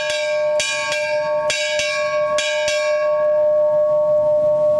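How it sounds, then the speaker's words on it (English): A ship's bell aboard a cruise ship strikes eight bells in spaced pairs, each sharp clang ringing out with a long metallic decay. It is loud and close, and no one speaks. "It was not long before it was time for 8 bells again."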